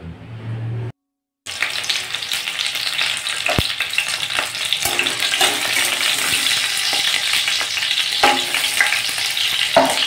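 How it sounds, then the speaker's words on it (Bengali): Pieces of pointed gourd sizzle and crackle in hot oil in a wok, a continuous bright frying hiss with occasional stirring knocks, following a brief moment of near silence at the start. "প্রথমে আমি পটলগুলো ভেজে নেব।"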